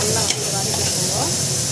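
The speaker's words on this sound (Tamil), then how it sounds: "நல்லா வந்து வதக்கிக்கோங்க." A steady sizzle of food sautéing in a pan as it is stirred, with a brief scrape early on, close and continuous, no voices.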